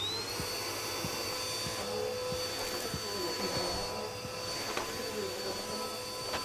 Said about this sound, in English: I'll vacuum it up for you.